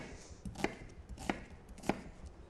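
Three evenly spaced knife chops through an onion cut into coarse pieces on a board, crisp and close with short gaps between strokes.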